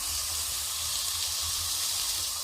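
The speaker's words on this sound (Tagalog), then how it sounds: "Ipapry nyo siya konti sa oil." Chicken pieces frying in hot oil in a pan, a loud, steady sizzle with constant crackling hiss close up and no voices.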